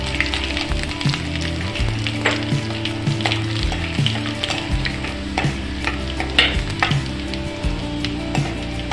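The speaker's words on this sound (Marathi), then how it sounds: "नऊ ते 10 लसणाच्या कड्या टाकून घेणार आहे" Garlic cloves hitting hot oil in a pan and sizzling loudly for several seconds, with a steady crackle, scraping stirs and clinks of a utensil, while a kofta curry is cooked.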